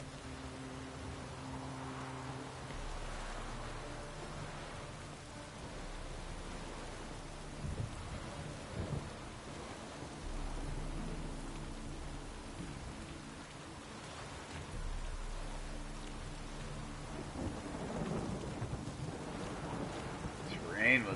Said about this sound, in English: This rain will just not let up.